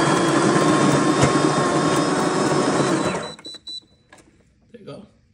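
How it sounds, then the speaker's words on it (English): A Kenmore espresso machine's built-in grinder whirs loudly and steadily as it grinds coffee beans for a single shot, then cuts off abruptly, leaving a few faint clicks and small handling noises. "Now that we did a single shot, we ground the beans for a single shot"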